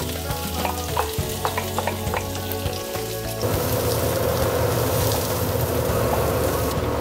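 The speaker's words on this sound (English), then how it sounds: "we're gonna start by sauteing the onions" Onions sauté in grapeseed oil inside a heated Dutch oven, loud close sizzling with stirring clatter early on, then a denser, steadier frying hiss for the rest.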